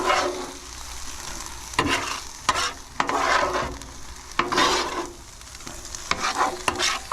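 Jambalaya being stirred in a pot at a campsite: repeated scraping strokes of a spoon through the thick mixture over a steady sizzle, close up, with no talking.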